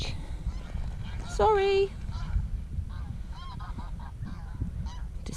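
Geese down by a dam beach, a single loud honk in the middle followed by a few fainter calls, over outdoor ambient noise, with a voice briefly speaking.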